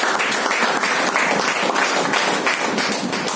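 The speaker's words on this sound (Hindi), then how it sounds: "तालियां होनी चाहिए" Audience at a health awareness program in Boisar, Palghar breaks into dense, steady applause, loud and close, many hands clapping together without a break for the full few seconds.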